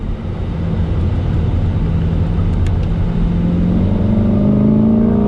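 A Chevrolet Corvette C8 accelerates hard on a race track, its engine note climbing steadily and loudly over five seconds in one continuous rising pull with no gear break.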